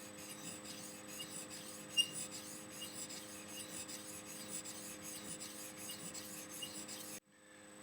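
An Alex Jacques straight razor is honed on a sharpening stone, giving a steady, close scraping rasp of repeated strokes that stops abruptly near the end, with no voices.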